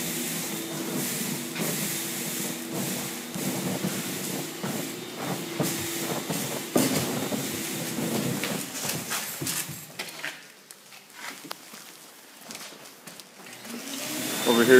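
A cellulose insulation blowing machine runs in a garage while insulating attic and wall bays, giving a steady broadband whooshing roar with a low hum, fairly loud throughout with some bumps and rattles.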